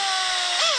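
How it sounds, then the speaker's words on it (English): A power drill bores through a transducer mount in a brief, high-pitched whine that dips slightly as the bit bites, heard up close and alone. "Drill straight through there."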